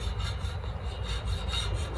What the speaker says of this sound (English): this is what it sounds like when it's steel